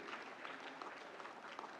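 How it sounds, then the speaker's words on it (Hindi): Brief, fairly faint applause from the audience at a national film awards ceremony, an even patter of many hands clapping together. "जोरदार तालियां इन अवार्डीज के लिए।"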